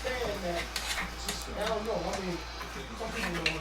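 Oxtails browning in a pot are turned and stirred, giving light scraping and metallic clinks of a utensil against the pot under a person talking, with a low steady hum behind.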